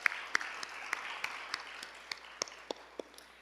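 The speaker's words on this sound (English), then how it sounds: "So another big round of applause for our area leaders." A graduation audience for a guide dog and service dog class claps in a short burst of scattered applause, individual claps distinct and fairly near, fading slightly toward the end.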